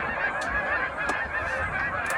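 Geese honk near the Yellowstone River in Montana on land used during hunting season, a loud steady flock chatter with a few sharper honks standing out.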